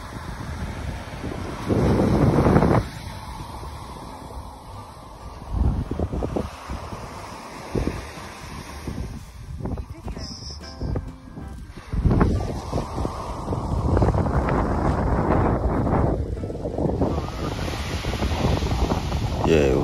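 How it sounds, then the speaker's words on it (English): Strong wind sweeps across a beach on the Costa Brava, rumbling and buffeting the microphone in gusts, with surf faintly beneath and occasional voices in between. "Yeah, it was so windy there"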